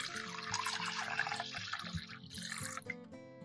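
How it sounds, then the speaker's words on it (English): Water is poured steadily into a small basin of salt, a continuous splashing and trickling stream running for a few seconds over a soft steady background tone. "Pour water about 2/3 of the basin."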